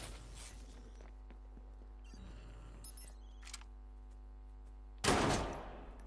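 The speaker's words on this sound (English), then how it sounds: "That man just got shot in the back." Gunfire in the video game Watch Dogs 2 comes through over a steady game hum, with a few faint clicks and then one loud, sharp blast near the end that fades over about a second.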